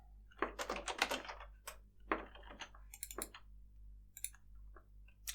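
Bursts of clicky computer keyboard typing come in quick uneven clusters separated by short pauses, close and crisp against a quiet low hum, with no talking.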